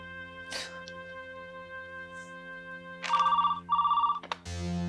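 A telephone rings twice in quick electronic bursts inside a home, loud and close over soft background music, with a faint voice early on.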